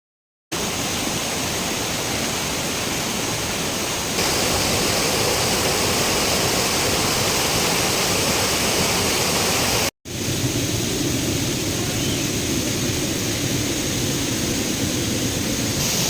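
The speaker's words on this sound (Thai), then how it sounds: "พามาเที่ยวน้ำตกเพชรคดแล้ว" Jet Khot waterfall in Saraburi pours in a continuous loud broadband rush, steady and close, with a brief cut near the middle and no voices.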